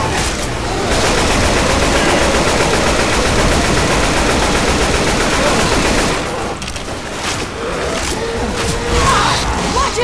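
Dense, sustained automatic gunfire from a horde-survival shooter, Left 4 Dead 2, in a church setting, loud and continuous for about six seconds before thinning into scattered shots and clatter.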